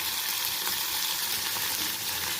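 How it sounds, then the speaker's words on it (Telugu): Tomato and curry leaves fry in a pan with a dense, steady hiss of hot oil, loud and close, with no pauses and no voices. "ఇలా ఫ్రై చేద్దాం."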